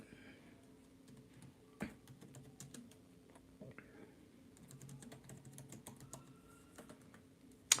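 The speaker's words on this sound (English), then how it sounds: "I'm just typing your question so I can try to see if I can do that or not." Fingers type on a computer keyboard in quick irregular clusters of light clicks, close and quiet, with a few louder key strikes and short pauses between bursts.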